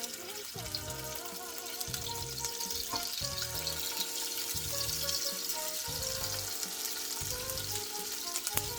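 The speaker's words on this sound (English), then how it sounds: "I'm gonna let this fish sear for about 2 minutes" Monkfish searing in an oiled pan gives a steady, close frying sizzle throughout, with a repeating low rhythmic pulse and faint clinks underneath, and no talk over it.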